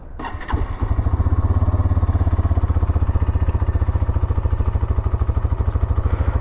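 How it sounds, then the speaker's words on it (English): A Hero Xtreme 160R 4V 160cc motorcycle starts up and idles, its exhaust giving a close, loud, rapid and even single-cylinder thump that runs steadily throughout with no talk. "let's also hear the beautiful exhaust note for the Hero Extreme"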